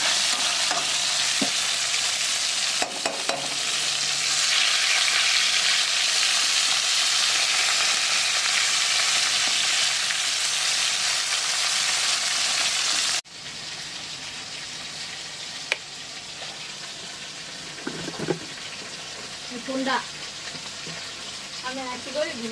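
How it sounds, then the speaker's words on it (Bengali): Fish and prawns fry in a pan with a loud, continuous sizzle that cuts down sharply partway through, leaving quieter crackling and occasional clinks and faint voices. "এখানে চিংড়ি মাছ ভাজা হচ্ছে।"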